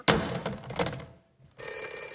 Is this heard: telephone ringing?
yes